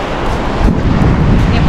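Strong seaside wind roars into the microphone in loud, dense buffeting, with rough surf-like rumble underneath throughout the short stretch.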